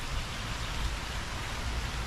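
Rain falls steadily outdoors on a rural plot of land, a continuous, even hiss of drops with no break and no voices.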